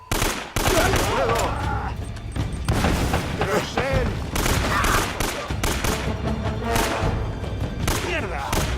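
Heavy, sustained gunfire from the Uncharted: Drake's Fortune video game crackles in dense bursts throughout, with shouting voices mixed in among the shots and thuds.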